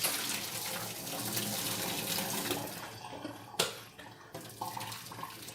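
Hot blanching water from a pot of spinach pours in a steady rushing stream into a sink, then breaks off into splashes and drips with a couple of metallic knocks from the pot, close and loud.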